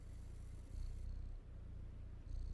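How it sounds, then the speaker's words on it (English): A cat in the video game Stray purrs close and steady, a low rhythmic rumble in even pulses with no other sound over it. "Hear it nice and purring"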